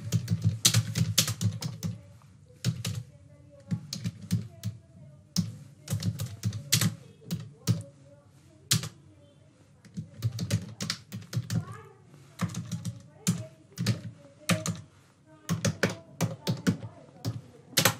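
Someone types a message on a computer keyboard in irregular bursts of rapid clicks and key taps, close and clear, with short pauses between flurries throughout.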